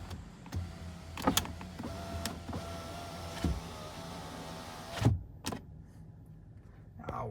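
Power windows whirring up inside a new Ford, the motor's steady hum running for several seconds between clicks and a couple of soft thumps as the glass seats, close and fairly quiet.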